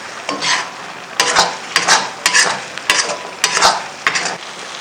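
Curry being stirred with yogurt in a karahi after the tomatoes are fried, repeated spoon scrapes and knocks against the metal pan over a constant close sizzle, no talking.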